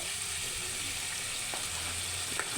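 A spice paste of ground ginger, salt, turmeric and cumin sizzles and fries steadily in a pan for a fish curry, with a few faint scrapes of stirring and no talk.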